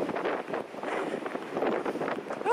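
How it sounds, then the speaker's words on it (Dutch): Strong wind buffets the microphone during an outdoor walk on a grey day, a continuous rough rumbling roar that swells and dips for the whole stretch with no other sounds. "Oh, die wind!"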